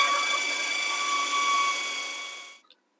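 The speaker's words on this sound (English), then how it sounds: "Process this a bit longer until it all comes together" A food processor whirs steadily, blending cheesecake crust crumbs with melted butter in a home kitchen, a sustained motor hum that spins down and stops near the end.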